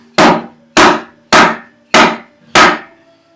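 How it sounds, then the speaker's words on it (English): Five evenly spaced, solid wooden knocks from a handmade two-piece wooden mallet with a tapered handle, each strike loud and close with a short decay. "So this is my mallet, the one that I made."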